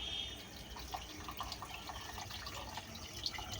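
Water pours into a pot of chicken and rice, a soft, steady trickle and splash held close and fairly quiet, with no voices.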